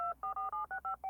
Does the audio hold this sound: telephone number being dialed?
yes